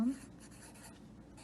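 Faint, steady scratching of a pen writing on paper, heard up close in a quiet room.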